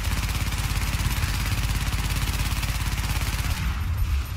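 Rapid automatic gunfire in the video game The Division during the Falcon Lost raid, a fast, even stream of shots that stops just before the end, with no talk over it.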